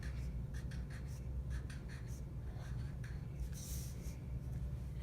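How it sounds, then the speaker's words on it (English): Pen or pencil writing a name at the top of a sheet of paper during a classroom hand-tracing art project, a soft scratchy stroking repeated in short bursts over steady low background hum. "you want to write your name at the very top of your paper."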